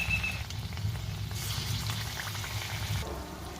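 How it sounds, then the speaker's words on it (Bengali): Pieces frying in hot oil on a low flame give a soft, steady sizzle with light bubbling, close and continuous, over a low background hum, with no talking. "ফ্রাই হচ্ছে, লো ফ্লেমে ফ্রাই করছি আমি।"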